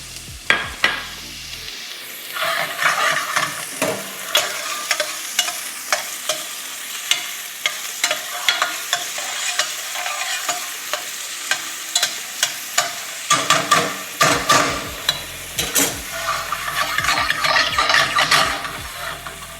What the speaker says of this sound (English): Then I will add my onions. We wanna caramelize our onions here.